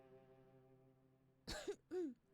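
Two short, sharp coughs from a girl in the video game Rule of Rose stand out over a soft, steady tonal hum.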